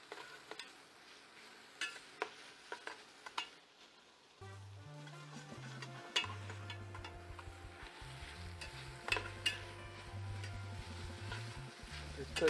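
Drunken noodles sizzle and fry in a pan while being stirred, with steady frying hiss and occasional clinks. Background music with low melodic tones joins partway through.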